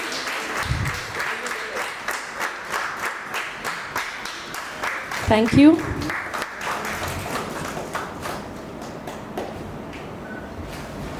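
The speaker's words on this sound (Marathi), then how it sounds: "टाळ्या वाजत राहू देत." An audience claps steadily at an indoor ceremony, a sustained patter of hands lasting several seconds before thinning out, while someone briefly speaks.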